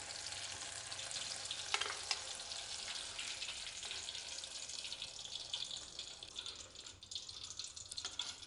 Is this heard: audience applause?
no